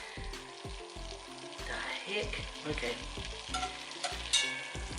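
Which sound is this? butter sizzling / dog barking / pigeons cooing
butter sizzling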